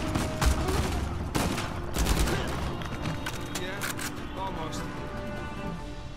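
Rapid bursts of automatic gunfire from the video game Uncharted 4, with sharp repeated shots and clattering fusillades, loud and dense over game ambience while a player talks over the action.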